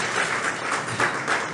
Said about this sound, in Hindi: मैं ज़ोरदार तालियां उनके लिए बजवाना चाहूँगा।